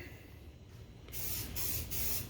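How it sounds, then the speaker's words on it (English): A spray can hisses in several close bursts as rust converter is sprayed onto an original truck seat, each loud spray separated by short pauses. "Spray painting this original seat with rust converter."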